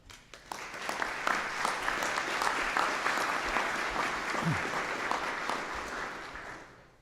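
An audience at the Palmetto College investiture ceremony welcomes speaker Mike Cowick with dense, sustained applause that fills the hall, then tapers off at the end.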